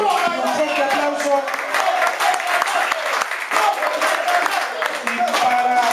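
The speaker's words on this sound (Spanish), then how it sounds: "Un fuerte aplauso" Sustained applause from a crowd at a birthday gathering for an association's general secretary, dense steady clapping throughout with voices mixed in.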